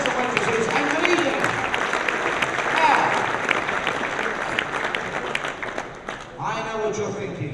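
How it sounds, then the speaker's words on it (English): A dinner-event audience applauds the waiters and waitresses, a full, steady wash of clapping and crowd noise that dips briefly before a voice begins speaking near the end. "Round of applause please for our waiters and waitresses"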